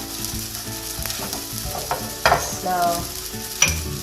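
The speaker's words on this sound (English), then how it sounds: "I am making my burger patties. We can also bake these patties, but I prefer frying them" Oil sizzles and spits steadily as burger patties fry in a pan with a little oil, with a few sharper pops and a brief spoken word over the crackle.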